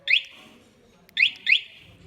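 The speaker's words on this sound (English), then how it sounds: "we've got an alarm on the bike" A MoskoMoto adventure motorcycle's alarm gives three sharp, chirpy electronic whistles, one alone and then a close pair, loud and near, with quiet gaps between.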